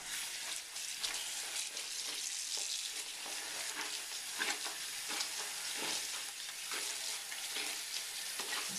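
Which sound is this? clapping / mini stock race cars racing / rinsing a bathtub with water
rinsing a bathtub with water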